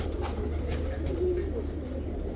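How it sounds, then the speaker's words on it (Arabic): Pigeons coo softly amid the steady hubbub of a crowded bird market in Kadhimiya, Baghdad, where pairs are sold; low murmuring calls sit under constant background noise. "هذا حمام الخانات."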